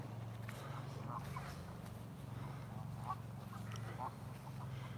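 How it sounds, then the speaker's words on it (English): Geese honk in repeated short calls on an outdoor morning walk in Blackburn, UK, mixed with a low steady hum and a voice talking nearby. "I like geese though. I do like geese."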